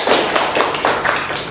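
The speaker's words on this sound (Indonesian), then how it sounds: "Tepuk tangan dulu." Scattered classroom applause from students, a loose patter of claps filling the room for the full moment, fairly close and steady with no talk over it.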